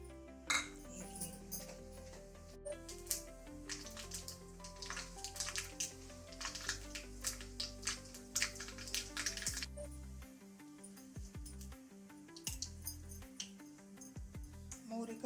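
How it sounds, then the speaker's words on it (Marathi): Mustard seeds crackle and pop in hot oil, tempering for a raw mango chutney: a dense run of small sharp snaps and sputters, close and fairly steady, with a voice speaking over parts of it. "मोहरी कडकडून झालेली आहे"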